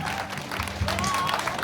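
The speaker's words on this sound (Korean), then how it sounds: "마지막 박수 한번 줘." Audience applause at an outdoor winter charity performance at Changwon Sports Park, a steady crowd clapping held at an even level throughout, with no talk over it.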